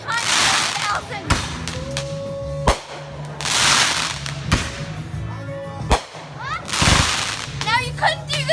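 Fireworks burst in a loud backyard display, three big crackling explosions spaced a few seconds apart with sharp bangs and whistling, fizzing trails between them, and faint voices in the background.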